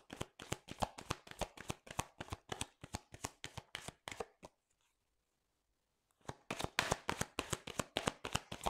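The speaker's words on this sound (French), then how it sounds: "On va faire un tirage du petit Lenormand" Petit Lenormand cards shuffled by hand for a reading: rapid, close, crisp riffling slaps in a steady rhythm, a pause of near silence, then another quick burst of shuffling, with no talking.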